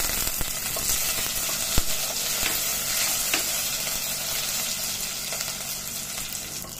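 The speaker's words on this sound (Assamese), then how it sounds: "এয়া মই আলুটো অলপ ব্ৰাউন কৰি এনেকুৱাকে ভাজি লৈছো" Steady sizzling of potato frying in hot oil, a continuous crackling hiss with a few sharper pops, close by and fairly quiet.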